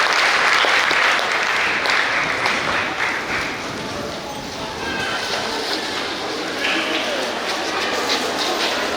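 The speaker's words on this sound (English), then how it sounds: "Let's give it a round of applause." A crowd at a high school graduation ceremony bursts into loud, sustained applause that begins at full strength and then settles into steady clapping for several seconds.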